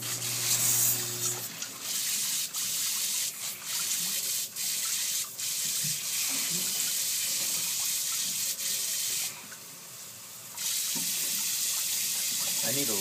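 Water runs and sprays from a leaking cold-water pipe under a house, a steady hiss that continues throughout with a few knocks and brief dips in flow.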